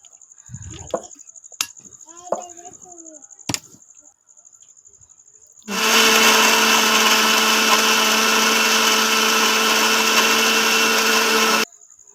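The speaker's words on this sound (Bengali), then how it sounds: "এখন ব্লেন্ড করে নেব।" A blender whirs loud and steady for about six seconds, mixing milk and pomegranate into fruit juice after a few clicks and knocks as the lid goes on.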